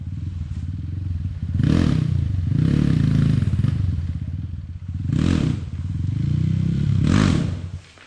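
A trail motorcycle climbs over rocks, its engine revving in repeated surges, with clattering and scraping from the tyres and stones between the bursts, loud and close.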